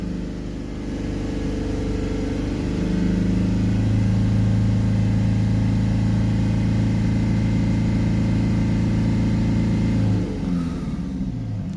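A Mercedes C-Class 2.1 CDI diesel engine holds a steady idle-raised drone at about 3000 RPM, a constant mid-pitched hum for most of the stretch before the revs drop away near the end.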